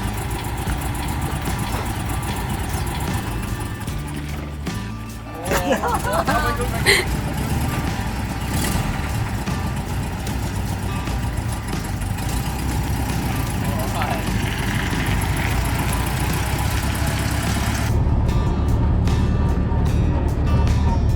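A restored Kübelwagen engine runs steadily at idle, a continuous low rumble close by, with people talking over it and some clanking early on.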